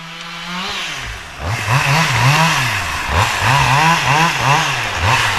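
Chainsaw running while cutting trees during logging: a loud, close engine whining and revving in repeated surges as it bites into wood, with no talk.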